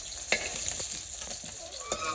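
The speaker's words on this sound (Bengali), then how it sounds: "আমার মাছ ভাজা হয়ে গেছে" Fish frying in hot oil in a village kitchen, a steady dense sizzle with a few louder spatters and utensil scrapes as pieces are stirred, close and continuous with no talk.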